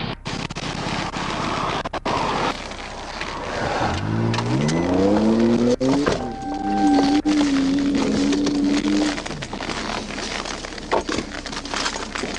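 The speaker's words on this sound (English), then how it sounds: "The Nissan sped east toward the Mississippi River Bridge, hitting nearly 100 miles per hour as Cannon weaved through traffic on Highway 82." A Nissan car racing at high speed along a highway during a police chase, its engine rising in pitch as it accelerates, then holding a steady loud drone before fading.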